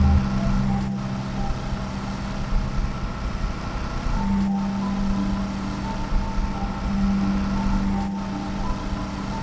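A motorbike ridden along steadily gives off a continuous low engine hum with faint tonal drones, moderately loud and even throughout, with no voices over it.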